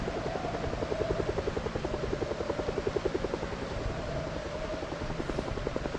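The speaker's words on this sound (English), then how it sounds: "as long as the chopper cannot see you, you should be good." Helicopter in the Project Zomboid video game, a steady rhythmic rotor chop with an engine drone that stays loud and constant throughout, with no talking.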